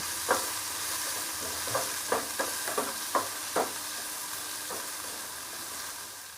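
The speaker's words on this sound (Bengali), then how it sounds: "আমার পেঁয়াজটা ভাজা হয়ে গেছে" Chopped onions frying in a pan as a spatula stirs them, a steady sizzle broken by several sharp scraping knocks in an irregular rhythm, with no voices.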